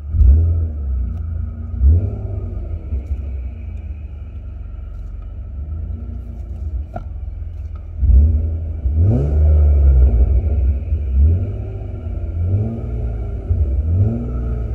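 A BMW E36 M3 convertible engine idles with a deep rumble, then revs hard several times in repeated bursts, loud and close, with no talking.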